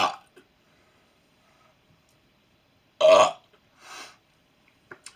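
A person burps loudly and close by indoors in a kitchen, with a sharp belch at the start, a longer, fuller one a few seconds later and a softer follow-up, separated by near silence.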